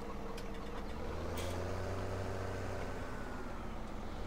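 A tractor engine in Farming Simulator 17 drones steadily at a low idle-like rumble, constant and close, working on a slippery snow pile with no speech over it.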